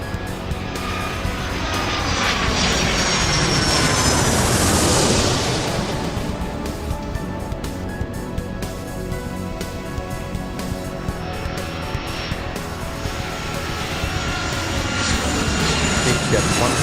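Jet airliner engines roar steadily as a plane speeds down the runway for takeoff in the Airport Madness 3 air-traffic game, the loud whine swelling midway and holding for the whole stretch.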